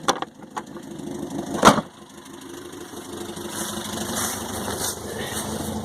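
A Land Rover Series III truck engine chugs along while driving, with a sharp knock and clatter early on, then a steady mid-range rumble and drone that builds slightly, fairly close and loud.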